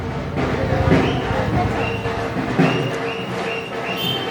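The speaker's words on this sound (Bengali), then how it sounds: "সেই ব্রিটিশ আমলের ইঞ্জিন ট্রেন দেখছেন" Rumbling noise of an old British-era engine train, with clanking rail carriages and a low engine drone, steady and fairly loud, with a few metallic knocks and a faint squeal.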